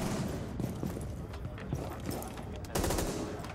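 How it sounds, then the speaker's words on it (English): Single-fire LMG shots in Rainbow Six Siege ring out as scattered, irregular cracks over a dense game-noise bed, with a louder close burst near the end. "she's using a single fire with the LMG, which makes sense"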